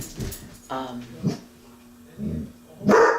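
A dog gives several short barks and yips close by, spaced irregularly, with the last one loudest.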